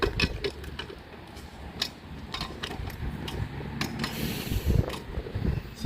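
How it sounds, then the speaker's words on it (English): Irregular metallic ticks, clicks and ratcheting while a wheel comes off a jacked-up car, with a busy low rumble underneath and no talking. "Alright, now we take the wheel off."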